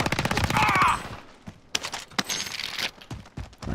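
Gunfire in Call of Duty Warzone, Vanguard Resurgence mode: a rapid automatic burst up front, then scattered sharp single shots and short bursts, loud and close against game background noise.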